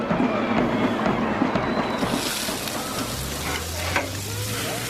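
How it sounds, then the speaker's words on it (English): Food sizzles on a grill as a short sound effect in a radio ad for a 4th of July celebration, a loud continuous frying crackle with a brief whoosh near the end. "Dinner on the grill."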